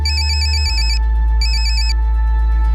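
A mobile phone ringtone plays loudly and alone in a police crime drama scene: a bright electronic melody in two repeated bursts over a low steady hum, with no talking.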